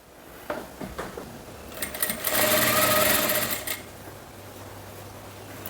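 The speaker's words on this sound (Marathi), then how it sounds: "कट लावल्यानंतर आता इथे आपण शिलाई मारायला स्टार्ट करणार आहोत।" A sewing machine stitches a kurti, starting with a few short ticks and bursts before running in a steady whir for about a second and a half, then slowing and stopping.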